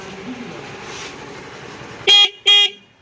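Two short, loud beeps of an electric rickshaw horn in quick succession sound close by after a stretch of quiet background murmur.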